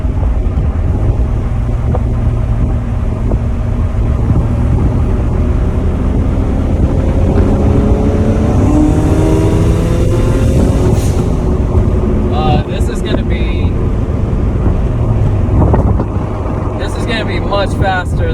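A turbocharged Toyota GT86/Subaru BRZ revs hard through third gear from about 2800 toward 6800 RPM, its engine note climbing steadily and loud over wind buffeting, with a brief whoosh or flutter near the top.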